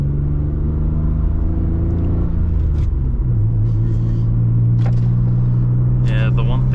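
A Mitsubishi Galant VR-4 engine drones loudly from inside the car on a freeway, its pitch shifting as it changes speed, with short hissing bursts that suit its wide open blow-off valve and brief sounds near the end.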